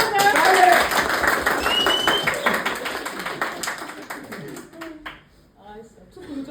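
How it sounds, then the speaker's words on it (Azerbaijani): A small group claps in a quick, dense burst of applause that fades out after a few seconds, close by, with people talking and laughing over and after it. "Alqışlayın bir dənə"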